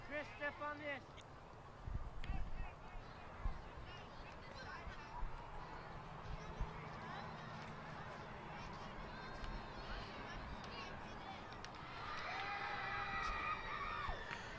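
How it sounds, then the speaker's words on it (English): Children scream and shout across outdoor soccer fields during a girls' under-16 youth tournament match, a lively crowd of cheers and whoops under a commentator's nearby talk, swelling louder toward the end. "Hear a lot of screams, a lot of action here on the fields around us."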